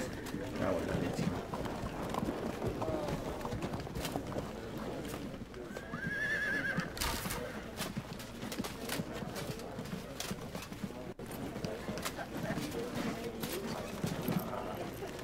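Horses gallop and neigh in a Field of Glory II battle, with steady hoofbeats and a whinny midway, all under continuous commentary.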